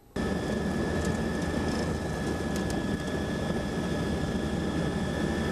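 A Hughes/MD 500-type helicopter climbing out after takeoff gives a steady, loud engine and rotor roar with a constant turbine whine, running continuously and close, with no one talking.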